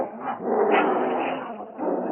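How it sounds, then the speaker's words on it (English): A dogfight in a 1940 Lone Ranger radio drama set in Canyon City: dogs snarl, growl and yelp in a continuous tangle, loud and close, with a muffled, narrow-band broadcast quality. "with the sound of a dogfight."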